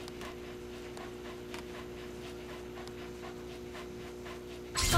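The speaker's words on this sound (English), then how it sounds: "Good dog." A dog pants in Metal Gear Solid V: The Phantom Pain, steady rapid close-up breaths over a low game hum, ending with a brief louder rustle.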